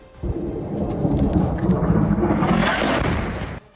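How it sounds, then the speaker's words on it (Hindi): A missile strikes a building at night in Jordan, setting off a loud, sustained explosive roar that swells and rumbles for about three seconds before cutting off, heard alone without speech. "वो मिसाइल इमारत से टकराई तो जबरदस्त धमाका हुआ।"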